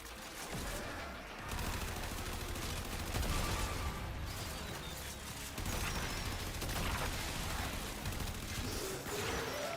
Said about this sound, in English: Wielding an AK is a lot of fun, actually, in Warframe